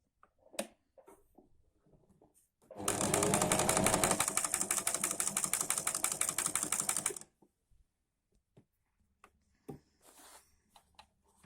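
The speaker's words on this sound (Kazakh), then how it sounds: "міне тігіп болдық" Sewing machine stitching a pillow, a steady fast mechanical whir of about four seconds between quiet handling clicks and small taps.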